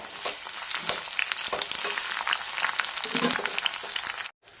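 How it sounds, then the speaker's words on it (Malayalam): Chopped green chillies and bitter gourd sautéing in hot oil for a pickle, a continuous loud sizzle with scraping stirs of a spoon, ending in a sudden brief silence. "കൂടെ രണ്ട് പച്ചമുളകും അരിഞ്ഞിട്ട് കൊടുക്കുക ഇളക്കി വഴറ്റാം"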